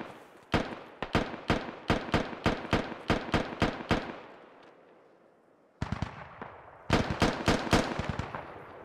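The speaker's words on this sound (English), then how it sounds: "Seneca takes some shots here" Rapid gunfire in the Squad military shooter game, a long string of loud, close, evenly spaced shots with short echoing tails, a brief pause, then another fast burst.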